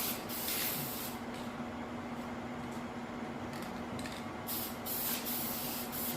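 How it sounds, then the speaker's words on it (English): An old aerosol can of upholstery glue sprays along edges in repeated hissing bursts, loud and close, with short pauses between passes and no talking. "This is an old can of glue, so I'm using what I have. It should be sprayed more even than this"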